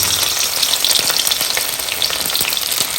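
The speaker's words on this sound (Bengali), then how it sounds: "সেসমি অয়েলের মধ্যেই আমি একটু রসুন কুচি দেব।" Chopped garlic frying in sesame oil for a chilli chicken gravy, a steady close hiss of bubbling oil with scattered light pops, continuous and dense throughout, no voices.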